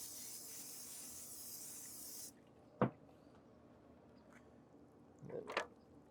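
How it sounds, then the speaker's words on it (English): Spray is aimed at the bottom of a baking tray for cornbread dressing, giving a steady close hiss for about two seconds that then cuts off, followed by a couple of faint clicks and knocks. "We wanna just spray the bottom of the tray."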